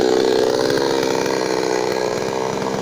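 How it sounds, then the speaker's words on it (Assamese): A chainsaw cuts through a tree, its engine droning steadily and loudly at close range with a slight rise and fall in pitch as the blade works through the wood, and no voices over it. "মেচিনে গছ কেনেকৈ কাটে আপোনালোকক দেখালোঁ"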